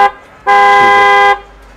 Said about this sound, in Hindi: हॉर्न चेंज कर दिया भैया, करे क्रेटा साउंड, क्रेटा टाइप जी भैया